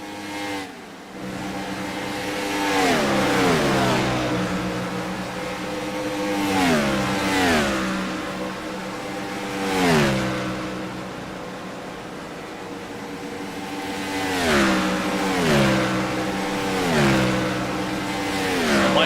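IROC race cars on pit road at Chicago, engines repeatedly revving up and easing off in rhythmic surges with gear-change sweeps, a steady loud mechanical drone throughout with no talk.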